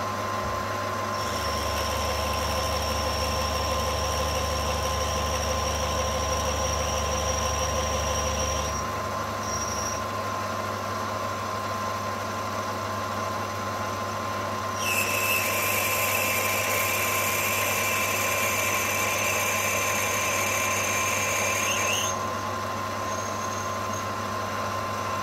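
A drill bores a 6 mm hole into a carburetor jet holder for a 26 VBN / 26 VX carburetor, making a steady, loud machine whine that runs continuously, with a shriller high-pitched stretch partway through and no talking.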